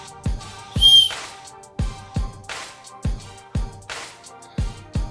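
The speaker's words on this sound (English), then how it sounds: "and a whistle" A small survival whistle from a paracord bracelet kit gives a brief shrill blast, surrounded by a series of sharp clicking knocks as the gear is handled up close.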